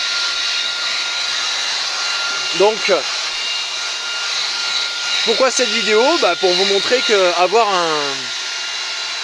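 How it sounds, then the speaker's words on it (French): A Xiaomi Roborock H6/H7 cordless vacuum cleaner whines steadily and loudly inside a Tesla car interior, a constant high motor hum running beneath someone speaking French. "Et voilà comment on aspire la voiture."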